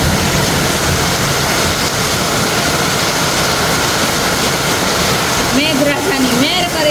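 Heavy rain pours down in a loud, dense, continuous roar of splashing water. It holds steady throughout, with a voice briefly heard toward the end.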